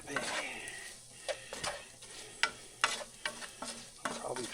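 Home fries with onions fry in a pan with a soft sizzle, punctuated by repeated sharp scrapes and taps of a utensil stirring against the pan, close and fairly quiet.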